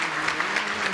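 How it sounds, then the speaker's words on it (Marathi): An audience at a Marathi kirtan bursts into brisk, dense applause, a steady wash of many hands clapping close by for a single second. "एकदा टाळ्या वाजवा त्या आजीसाठी"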